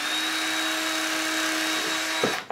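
A power drill bores a hole into the rubber group head gasket of a Rancilio Epoca espresso machine, a steady close whine that holds for about two seconds before winding down.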